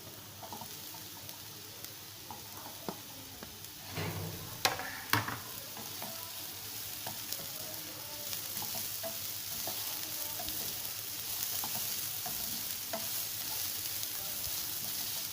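Capsicum fries with chicken samosa filling in a pan, a faint continuous sizzle under repeated stirring scrapes and a couple of louder spoon knocks near the start, with no voices.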